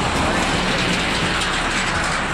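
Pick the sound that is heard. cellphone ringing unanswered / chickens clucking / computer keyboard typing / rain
rain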